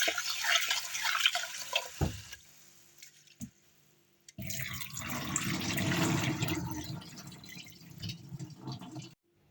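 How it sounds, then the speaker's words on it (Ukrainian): Round-grain rice being rinsed with water in a thick-bottomed pot, close splashing and swishing water with pauses and a few knocks, then a longer steady stretch of running, sloshing water. "Помиваємо наш рис."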